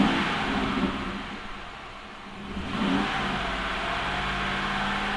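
A Mercury car with 410 gears revs its engine: a steady mid-pitched roar dips briefly, then climbs again with a sharp rev before settling into a loud, sustained drone.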